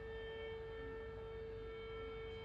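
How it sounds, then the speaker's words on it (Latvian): Civil defense sirens wailing in a Czech town near the Teplice rocks, a steady sustained tone held at constant pitch without pause, fairly distant and alone with no talk. "Nevar saprast, ka viņi visu dienu gaudina tas sirēnas."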